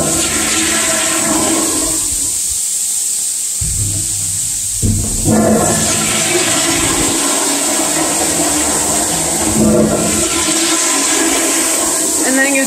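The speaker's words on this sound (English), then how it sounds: "And then you go and you flush every toilet." Toilets flush in a house one after another, a loud rushing of water with surging gurgles and refill hiss running almost continuously, close by.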